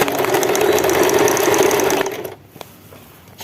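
A sewing machine stitching a silicone tablecloth runs with a steady, loud mechanical whir for about two seconds, then stops, leaving quieter handling noises and a brief click.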